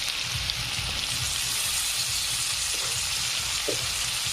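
Onion and tomato fry in a pan with a continuous bright sizzle and a few soft stirring taps, steady and close throughout, with no talking.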